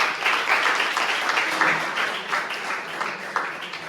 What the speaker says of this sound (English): So please, round of applause for him.